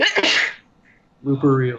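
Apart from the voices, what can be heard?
sneeze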